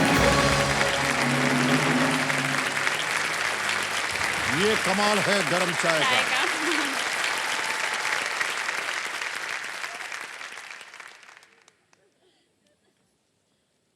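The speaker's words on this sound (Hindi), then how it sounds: "बाकी सब अब हम लोग ताली बजा रहे हैं" The studio audience of the game show Kaun Banega Crorepati claps in a dense, loud round of applause that carries on while people talk over it, then fades and drops away to silence near the end.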